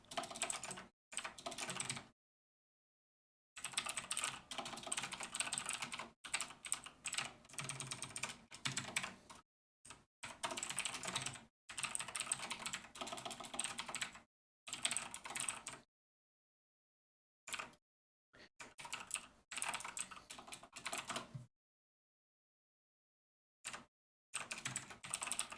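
Quiet, steady typing on a computer keyboard during a game-development data entry session, coming in bursts of rapid keystrokes broken by short silent pauses.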